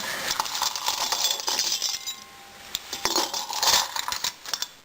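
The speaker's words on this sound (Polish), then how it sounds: "To jest słonik. Który jest szklany" A small glass elephant figurine clinks and taps against other objects in a bedroom, giving a cluster of bright, irregular chinks close to the microphone, with no talking over them.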